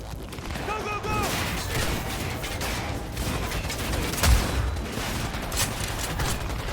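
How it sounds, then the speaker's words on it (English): Artillery and gunfire in Cyberpunk 2077 rattle as a dense, continuous barrage of shots and booms, with one heavier blast standing out midway, loud and close, while a voice talks faintly underneath. "There's a fucking artillery."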